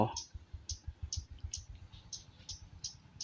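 Faint, irregular crackling ticks from a heating electric kettle, with low rumbling pulses underneath and a brief voice at the very start.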